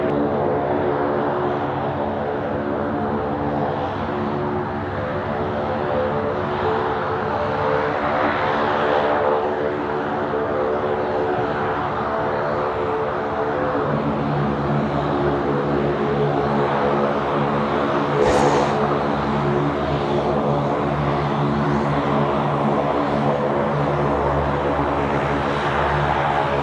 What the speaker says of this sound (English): These are Rex A340 making noise.